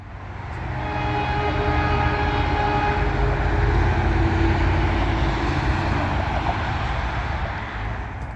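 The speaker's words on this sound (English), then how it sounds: "After a few minutes, our train blasts its horn and rounds the curve into platform 3" An NJ Transit Aero 3 electric multiple-unit train rolls into a station platform, a sustained loud horn blast sounding over the steady rumble of the approaching cars, swelling and then easing as it arrives.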